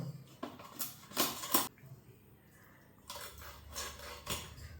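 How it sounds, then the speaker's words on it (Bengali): A knife chops raw shrimp into pieces for a Bengali shrimp bhuna, giving several sharp, close clicks and taps against a board or plate in two short bursts separated by a quiet pause. "এখন আমি মাছগুলি পিস পিস করব।"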